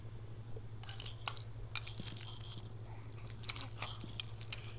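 Felix gnaws on a toy while teething, giving soft, irregular crunches and wet clicks close to the mic over a steady low hum, with no voices.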